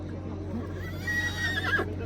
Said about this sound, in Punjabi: ਅਗਲੇ ਘੋੜਾ ਲੈ ਆਇਓ ਜੀ 6ਵੇਂ ਨੰਬਰ ਤੇ ਆਇਆ ਹਾ ਘੋੜਾ